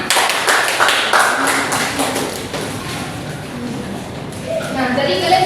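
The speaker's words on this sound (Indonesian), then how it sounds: "berikan tepuk tangan" Students in a classroom clap in a quick burst of dense, close hand claps that trails off into scattered taps, with voices talking over and after it.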